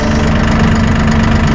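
Massey Ferguson 1E.40 compact tractor engine idling steadily, a loud, close, continuous low rumble with a strong even hum and slight knocking texture, no voices.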